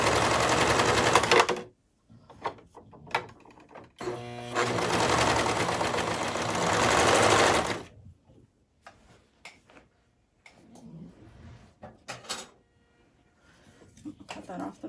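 Sewing machine stitching the band seam of a slouchy beanie hat with a half-inch seam allowance, running in two sustained bursts with quick ticking and clicking between them, and a person talking briefly near the end.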